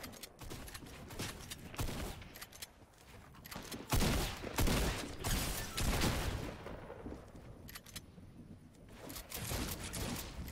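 Sniper gunfire in a Fortnite match, with several loud, sharp shots and blasts scattered across a busy battle soundscape, the heaviest burst about midway through, over constant game noise.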